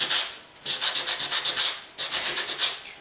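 Sanding block rubbing back and forth over paper in quick repeated strokes, close up, with a short pause midway and no talking.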